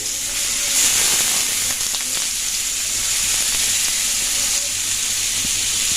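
Shyama rice frying in hot ghee over very low heat gives a steady, soft sizzle with a faint steamy hiss that runs evenly without a break and with no voices.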